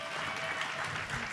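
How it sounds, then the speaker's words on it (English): An audience at the UNLV annual alumni awards ceremony applauds, a dense, steady wash of many hands clapping that fills the room without a break. "More clapping."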